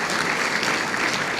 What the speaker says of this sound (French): Et je tiens à ce qu'on applaudisse ces deux messieurs, Gary Victor et Étienne Aurémile,